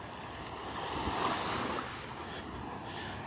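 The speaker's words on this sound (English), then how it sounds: "listening to the little waves breaking on the shore" Small waves break gently on the shore of Vanderbilt Beach on a morning walk, a steady soft wash of surf with light wind noise and no voices.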